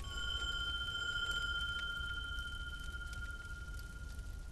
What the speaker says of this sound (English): Ringing Old Hunter Bell.